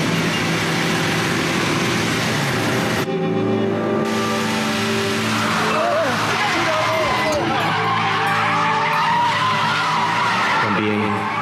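An all-wheel-drive car skids and drifts through a corner in a Japanese street-racing anime, a loud sustained tire squeal over engine roar that rises in pitch, with music and effects layered throughout.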